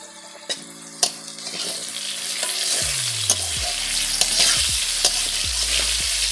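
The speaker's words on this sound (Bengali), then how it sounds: "আর এখানে আলু ভাজছে" Potatoes sizzle and fry in a pan in a home kitchen, a steady hiss punctuated by sharp stirring scrapes and clinks of a utensil against the pan.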